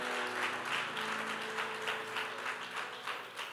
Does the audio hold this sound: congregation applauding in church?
yes